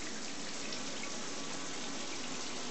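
Water runs steadily from a newly installed shower with a small handheld sprayer beside a bathtub, a continuous hissing spray at moderate distance with no voices.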